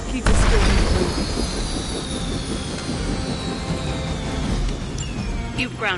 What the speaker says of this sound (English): You've grounded the helicopter